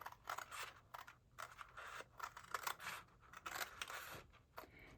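Scissors snipping through paper for a Christmas mini album, a run of quick close cuts and rustles repeating across the clip.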